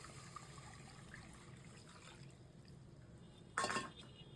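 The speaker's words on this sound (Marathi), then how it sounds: "तर याच्यामध्ये आपण ताक टाकणार" Buttermilk pours into a pot of Maharashtrian kadhi over a cooked ground masala paste, a short splashing burst after a stretch of quiet kitchen hiss.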